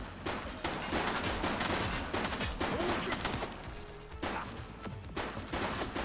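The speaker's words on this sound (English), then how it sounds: "Shots fired!" Loud, dense bursts of gunfire from a police shooter video game, rattling almost continuously with only brief gaps between volleys.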